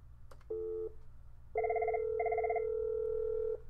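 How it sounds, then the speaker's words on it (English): A desk IP telephone on a Cisco CME system rings with electronic tone bursts, a short trill followed by a longer two-tone warble, clear and close with no talking. "I just picked up the phone and it's still ringing."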